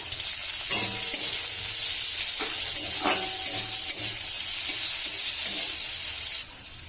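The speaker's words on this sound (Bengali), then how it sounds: "এবার এই তেলের মধ্যেই কেটে রাখা পেঁয়াজ কুচিগুলোকে দিয়ে ভালো করে ভেজে নিতে হবে।" Chopped onions sizzle and fry in hot oil in a pan, a steady bright hiss with occasional stirring clatter, close and fairly loud, no voices.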